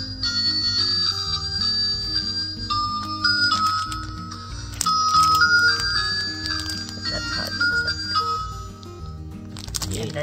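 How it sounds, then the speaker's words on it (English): A toy Shinkansen train on the Nozomi line plays its departure jingle at the press of a button: a bright, loud electronic melody close to the listener over a repeating tonal backing, ending in a short clatter. "It makes the jingle of the train, the Shinkansen, when it's leaving, or I guess right before it closes the doors."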